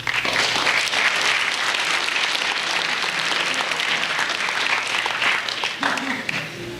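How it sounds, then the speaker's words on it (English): An audience at a fall sports program gives a round of applause for summer athletes' hard work, dense sustained clapping filling the room for several seconds and tapering slightly at the end. "Give them a round of applause for their hard work this summer."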